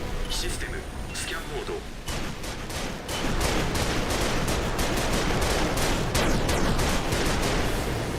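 Sustained gunfire from mech combat in the Armored Core video game rattles in rapid, dense bursts, growing louder and heavier partway through and continuing without pause to the end.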